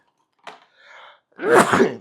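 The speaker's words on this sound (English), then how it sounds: "I feel like I'm going to sneeze" A single person sneezes close to the microphone, with a sharp intake of breath and a short wheezy build-up before a loud, forceful burst.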